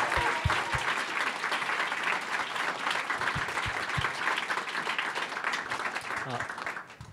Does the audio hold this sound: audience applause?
yes